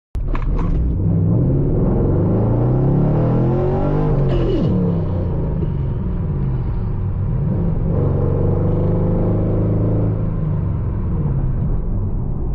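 A cammed Chevrolet Camaro at a dragstrip throbs with a loud, lopey rumble that swells through a rev and settles back into a choppy idle, steady and close throughout.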